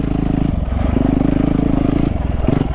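A 450 dirt bike engine revs on a downhill trail, a loud, close, throbbing exhaust drone whose pitch rises and holds with steady pulsing, then dips briefly.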